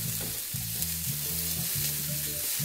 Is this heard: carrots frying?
yes